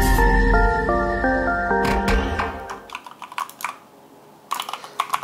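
Keys on a Corsair K65 RGB Mini 60% keyboard with Cherry MX switches clack in quick, uneven bursts of close typing, after a few seconds of loud background music fade out.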